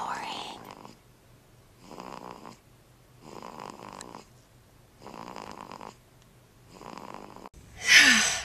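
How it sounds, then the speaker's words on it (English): A newborn baby snores softly in a quiet room, with five evenly spaced nasal breaths rising and fading, then a brief louder rustle at the end. "He's snoring."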